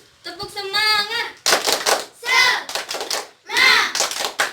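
Fourth-grade classroom clapping chant led by a teacher, children's voices shouting in unison between quick bursts of hand claps, repeated in several short rounds.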